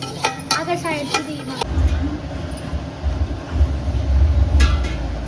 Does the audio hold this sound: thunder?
no